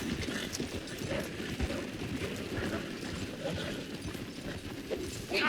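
Horses in Red Dead Redemption 2 pulling a wagon at a run, with a steady galloping clip-clop of hooves and rolling wheel rumble filling the scene at close range, continuous and fairly loud.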